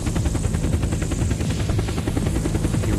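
A Hummingbird helicopter flies in the survival game Unturned. Its rotor chop and engine roar run loud and steady throughout, with no talking.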